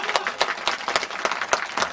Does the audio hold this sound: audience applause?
yes